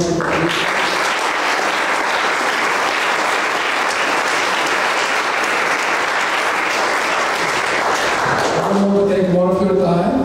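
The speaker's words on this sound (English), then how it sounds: "Let's give a round of applause to everyone." Loud, steady applause from a large crowd at a student project showcase fills the room without pause, fading toward the end as a voice begins to speak.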